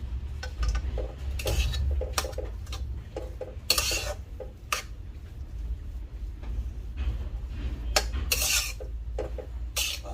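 A spoon scrapes and clinks against a pan while mixing spiced potato stuffing for bread pakora with finely chopped coriander, irregular close knocks and rubbing strokes at a moderate level, no talk.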